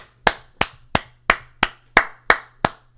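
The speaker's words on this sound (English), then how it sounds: "Round of applause." A single person claps slowly and steadily, about eight loud, close, evenly spaced claps with a low hum beneath.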